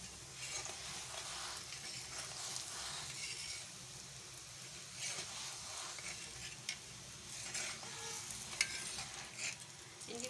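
Radish-stuffed paratha frying on a hot pan, giving a steady, faint sizzle with soft scraping and stirring noises and a few light clicks, no voices.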